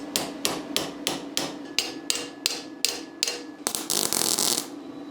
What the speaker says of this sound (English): I will then just whack it with the hammer to form it into the final shape.